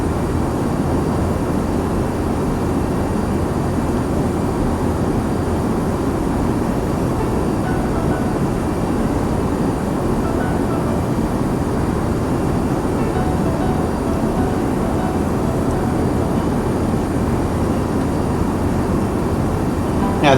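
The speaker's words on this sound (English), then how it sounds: "the thing about these bigger airplanes, you can't hear the engines as much usually. But the wind noise is a lot louder." Steady, dense roar of wind rushing past the cabin of an Airbus A350 airliner in cruise, loud and unchanging throughout with no voices.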